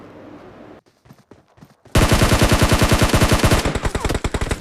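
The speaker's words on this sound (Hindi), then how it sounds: "मेरे पीछे से ही फायर एकदम से शुरू होने लग गई।" Rapid automatic gunfire in the PUBG battle royale video game, loud close bursts with evenly spaced shots that begin abruptly and continue for a few seconds, with a few quieter scattered shots before.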